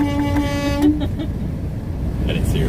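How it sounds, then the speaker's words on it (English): A horn sounds from a truck in a road convoy headed to Jefferson City, a sustained tonal honk for about a second over steady road and engine rumble, with a couple of short toots after and voices in the background. "Honk for her."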